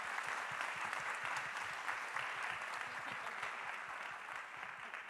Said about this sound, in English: let's start with a great round of applause with our steering committee representatives